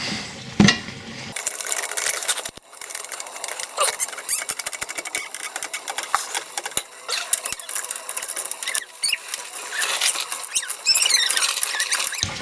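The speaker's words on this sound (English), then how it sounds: "I'm going to get a jack under this and see if I can squeeze it up." A jack raises an R50 MINI car for driveshaft CV boot work. Steady, close ratcheting clicks and mechanical rattles run the whole time, with one sharp clack near the start.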